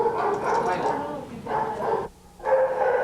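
A young German Shepherd pup at a humane society gives short barks and whimpering yips, close and fairly loud, mixed in with people talking and a brief quiet gap.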